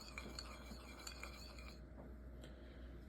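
Ribs being stirred in sauce for a Pit Boss vertical smoker cook, giving soft intermittent clinks and scrapes of utensil against pan over a low steady hum, close and fairly quiet.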